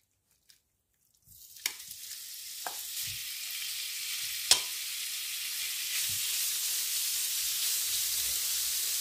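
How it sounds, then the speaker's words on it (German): Gyros meat hits a hot pan for a quick, sharp sear, breaking into a steady, bright sizzle with a few clanks and scrapes, fairly close and continuing without talk. "Und jetzt brate ich noch das Gyros ganz kurz an."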